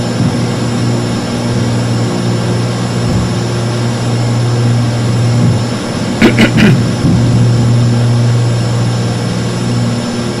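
Loud, steady aircraft engine drone during a takeoff climb in the X-Plane 11 flight simulator, a constant low hum with a brief burst of clicks midway.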